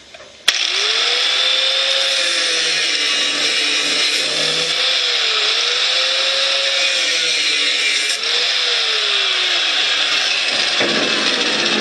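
Corded power tool cutting expanded metal on a Craftsman riding mower, a loud continuous high whine with a wavering pitch that runs nearly the whole time, starting abruptly after a moment of quiet.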